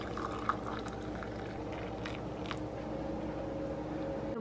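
Pot of water boiling on a stove in an apartment kitchen, a steady dense bubbling hiss with faint clinks, close and continuous throughout.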